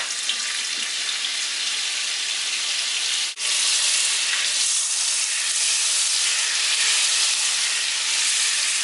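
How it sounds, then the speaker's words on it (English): Four tablespoons each of butter and olive oil sizzle in a large skillet over medium heat. A loud, even hiss runs unbroken apart from one momentary dip. "In a large skillet over medium heat, combine 4 tablespoons of butter with 4 tablespoons of olive oil."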